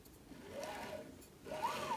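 Two stepper motors drive a 10-watt laser engraver along its X and Y axes, giving two faint, rising and falling whines, one after the other, soft and close.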